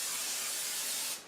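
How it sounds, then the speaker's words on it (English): Non-stick cooking spray hisses from an aerosol can onto a cake pan for a keto chocolate cake. It is one steady, close burst of spray lasting about a second before it cuts off. "We spray our cake pan with non-stick spray."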